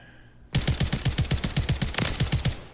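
Rapid single shots from a DTIR 30-06 rifle at a shooting range in a video game, a quick even string of about fifteen loud, sharp reports fired close by with no talk.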